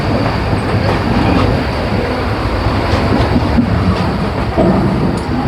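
The Sealdah Puri Duronto Express rumbles into Puri station, a loud continuous rolling of train wheels on rails with rhythmic clacks and metallic rattle heard close by, no voices.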